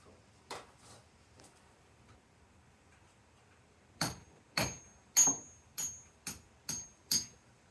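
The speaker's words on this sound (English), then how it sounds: "This one we're going to have to persuade in with a hammer" A few faint knocks, then a run of seven sharp, evenly spaced hammer strikes ringing against something solid during a roof repair, fairly close with quiet pauses between.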